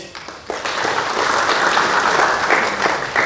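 An audience at a school awards ceremony for competition winners breaks into loud, sustained applause, dense hand-clapping that swells after a brief start and continues steadily to the end.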